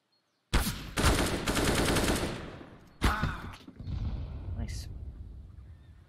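AK rifle fire in a competitive Counter-Strike: Global Offensive match, heard as two loud, sharp automatic bursts, a longer one followed by a short one, with game noise trailing after.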